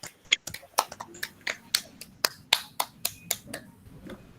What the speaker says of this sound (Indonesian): Berikan tepuk tangan lagi untuk Bagas.